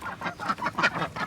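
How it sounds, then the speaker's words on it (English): Farm ducks quacking up close in a rapid, overlapping chorus of nasal honks, loud and continuous with no talking. "Oh, the ducks."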